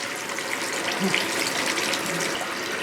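Running water rinses perm solution out of hair at a sink, a steady close gushing splash that holds unchanged across the few seconds with no voices.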